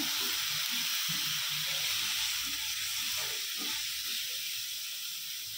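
Paneer and vegetables sautéing together in a pan over a very low gas flame, giving a steady soft sizzle and hiss with faint scraping stirs underneath, continuous and close throughout.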